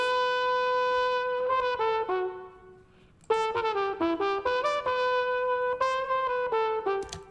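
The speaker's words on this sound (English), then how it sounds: "I think it was a flugelhorn." A solo flugelhorn plays a melodic line in a song mix, held mellow notes then a quicker run of short phrases after a brief pause, prominent and fairly close over a soft backing.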